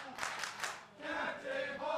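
Wrestling crowd at an All Pro Wrestling show, loud sustained cheering and shouting from a packed gym that swells in bursts, with a brief dip before rising again.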